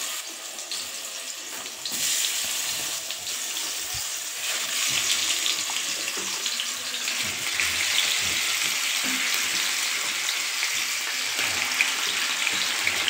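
Marinated chicken pieces drop into hot oil in a wok and fry with a continuous hiss and crackle that swells as more pieces go in, close and fairly loud, with no talking.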